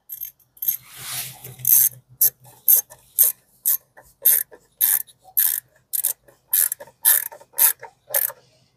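Repeated ratchet clicks in short bursts, about a dozen, as ignition coil bolts are tightened on a 2004–2009 Kia Spectra EX sedan; close, crisp mechanical clicking with brief gaps and no talk.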